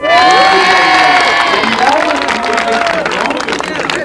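A live TV show audience in Cannes, 1988, cheers and applauds loudly, with shouts and whoops rising over the clapping, and excited voices mixed into the crowd noise.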